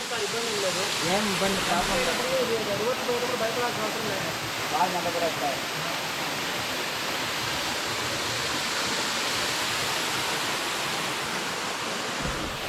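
Mallem Gundam waterfall in the Nallamala forest, a continuous broad rush of falling water, loud and close, with a person talking over it during the first seconds.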